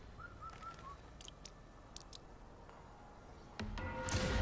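A bird calls from a tree in the video game Wuchang: Fallen Feathers, a faint, brief whistled call early on over a steady ambient hiss, with a few soft clicks and a louder rush near the end.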